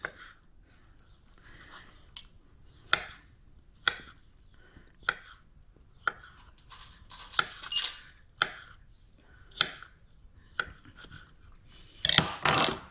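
Knife chopping salad ingredients on a board for a composed salad, a series of separate sharp close cuts spaced about a second apart, with a quicker burst of several cuts near the end.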